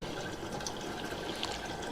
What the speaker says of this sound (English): just going to fill the watering can back up and top that right up with hot tap